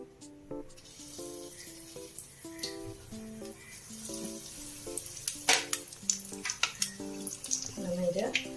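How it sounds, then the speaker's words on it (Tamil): Potato cheese balls fry in hot oil, a soft steady sizzle with light bubbling and occasional stirring clinks and rattles, fairly quiet throughout. "நல்லா திருப்பி திருப்பி விட்டு நம்ம இதை ஃப்ரை பண்ணிக்கலாம்."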